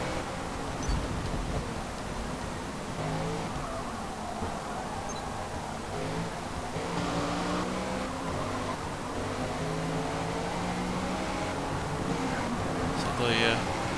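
High-revving race car engine in Forza Motorsport, a dense sustained drone with rising and falling harmonics, steady and loud throughout, with a voice talking over it.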